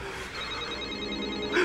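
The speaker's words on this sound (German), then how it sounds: "Wir sollten lieber ans Telefon gehen." A telephone rings in a tense indoor scene of a German crime drama, a steady electronic ringing at moderate level with a faint voice at the very end.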